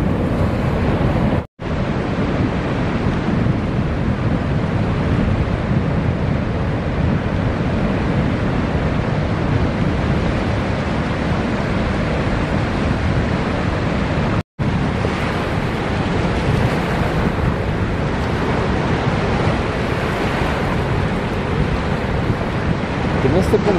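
Ocean waves roll in at the St Lucia estuary mouth, a steady, loud wash of surf under heavy wind buffeting the microphone, continuous throughout with two brief dropouts.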